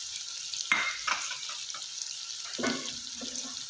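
Spices sizzling and being stirred in a pan with chicken for yakhni pulao: a faint, steady fry with a few scraping stir sounds and clinks, no voices.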